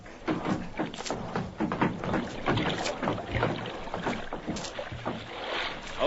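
A dinghy is rowed with oars through water in an old-time radio drama set in the Yukon, with rhythmic dips and sloshing strokes over wind, fairly close and steady, with no voices.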